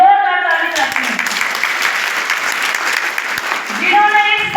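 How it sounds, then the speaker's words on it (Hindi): Applause at a Hindi-speaking celebration and award ceremony in Amarwada, a dense sustained wash of clapping that fills the room, with voices heard at the start and end. "मैं जोरदार ताली करती हूँ"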